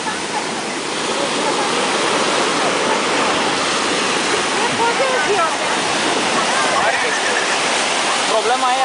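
Atlantic water rushing and pouring in at Cascais bay, a steady loud broadband wash of surf and spray that runs without a break through the whole stretch.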